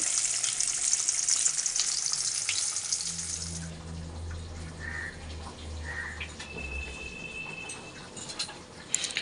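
Fish pieces frying in a pan on a home kitchen stove, a steady close sizzle running throughout, with a running tap splashing water in the first few seconds.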